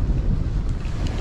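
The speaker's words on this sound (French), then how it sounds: "Et là il y a un peu plus de rafale" Strong wind gusts buffet the microphone on a seashore during a fishing outing, a loud low rumbling roar that surges and dips unevenly.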